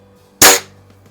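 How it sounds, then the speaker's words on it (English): A Quackenbush Model 5 combination rifle, .22 caliber, fires a single pellet into a rag box: one sharp, loud crack close by, followed by a short decaying tail in a quiet room. "So I'm going to just shoot this into my rag box here."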